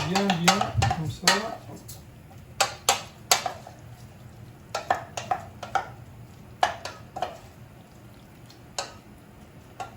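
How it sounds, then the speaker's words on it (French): Homemade pizza sauce ingredients being mixed in a bowl, with irregular sharp clinks and taps of a utensil against the bowl, close and moderately loud, with quiet talk in the background. "on mélange bien les ingrédients"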